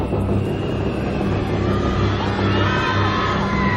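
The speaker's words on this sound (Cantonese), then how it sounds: "而家聽到全場一齊嗌，都係歡呼聲嚟嘅" A packed audience at a Cantonese pop music awards concert shouts and cheers together, a steady, broad roar of voices that fills the hall without letting up.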